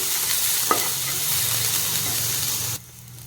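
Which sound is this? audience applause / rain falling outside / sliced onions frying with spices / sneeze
sliced onions frying with spices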